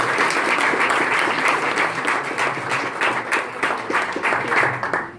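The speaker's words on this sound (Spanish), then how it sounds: "un aplauso para él" Applause fills a Peronist party hall in Argentina, a sustained, lively wash of many hands clapping near and far, loud throughout and tapering slightly at the end, with no talk over it.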